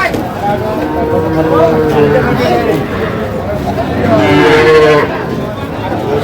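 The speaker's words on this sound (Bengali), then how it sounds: "কটা আছে এখন চারটা চারটা ষাঁড় বাচ্চা" Young bull calves at a cattle market, drawn-out moos rising and falling over a busy background, with people talking nearby throughout.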